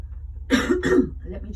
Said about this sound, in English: Excuse me for coughing like that.